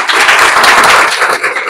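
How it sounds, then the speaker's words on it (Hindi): Classroom of students clapping hands together in a dense, steady burst of applause, loud and close, fading slightly toward the end. "चलिए इसके लिए तालियां बजाइए।"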